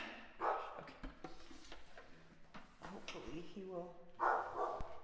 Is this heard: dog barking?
yes